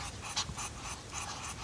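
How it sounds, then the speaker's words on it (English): Muscovy ducks give rapid, breathy huffing bursts with no quacking, a rhythmic series of hissing exhalations heard up close. "Muscovy ducks communicate by making these breathing noises and wiggling their butt"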